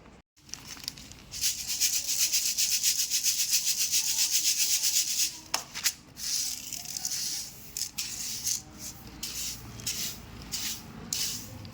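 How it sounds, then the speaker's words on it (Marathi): A hand rubbing and stirring through a container of wheat grains, a continuous close gritty rustling and scraping with rhythmic strokes that grow more uneven and patchy. "गव्हामध्ये तर काही नाही आहे एकदम निवडक गहू आहे सुद्धा हात मारून घ्यावाच लागतो"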